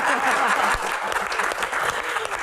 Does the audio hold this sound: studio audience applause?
yes